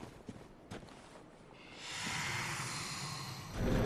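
A giant pig from Bloodborne snorts and breathes, giving a few short sharp bursts at first and then a heavier, rasping exhale that swells louder toward the end.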